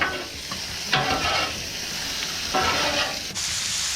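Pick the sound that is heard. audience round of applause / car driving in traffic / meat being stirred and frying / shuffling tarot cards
meat being stirred and frying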